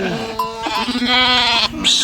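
Young lambs bleat loudly and close by, several wavering cries overlapping one after another over about two seconds.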